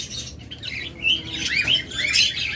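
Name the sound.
pet birds calling at a bird sale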